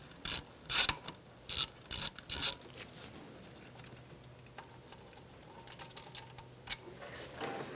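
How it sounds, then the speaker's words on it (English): A ratchet wrench with a 10mm socket clicks while loosening the speed sensor bolt at the rear wheel hub of a 2002-2006 Honda CR-V, several sharp close ratcheting bursts followed by quieter handling noises. "Using a 10mm socket, we're going to take out our bolt for our speed sensor."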